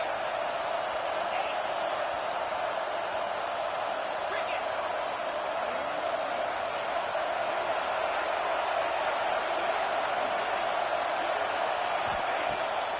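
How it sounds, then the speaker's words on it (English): A stadium crowd cheers at a Clemson vs LSU football game, a constant broad roar that rises as the home defense takes the field. It holds steady for several seconds at moderate distance. "This crowd rising up, sensing that its defense needs some help."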